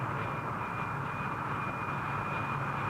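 A steady, loud roar with a high whine comes from an English Electric P-1 jet flying past at a 1950s Farnborough airshow. It is continuous and distant-sounding, with no talk.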